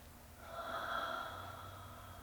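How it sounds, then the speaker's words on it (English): Slow breath during a yoga session, one soft drawn-out inhale or exhale through the nose, faint and close, in an otherwise quiet room. "Breathing."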